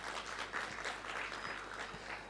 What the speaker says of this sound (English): May I please just have another round of applause